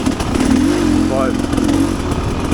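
A Rieju Ranger 300 dirt bike engine, fitted with an FMF Gnarly exhaust, revs and drones loudly and steadily nearby, with a brief pitch rise partway through.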